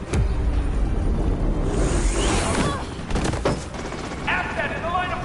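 Video game gunfire crackles in a fast, continuous rattle over heavy engine-like rumble and noise, with a whooshing sweep midway and a warbling electronic tone near the end.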